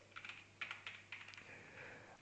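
Text is typed on a computer keyboard into a Microsoft Word document, producing quiet, close key clicks in short uneven bursts with brief pauses.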